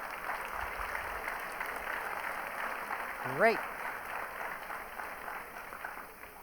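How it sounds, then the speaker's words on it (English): An audience applauds volunteers at a live science festival stage show, a sustained wash of clapping across the whole stretch with a brief spoken word midway. "let's give these volunteers a nice round of applause"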